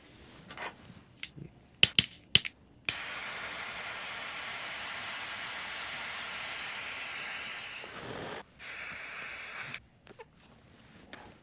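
A torch lighter hisses steadily for several seconds while lighting an Alec Bradley Filthy Hooligan cigar, preceded and followed by sharp clicks of the lighter and soft puffs, close and fairly quiet.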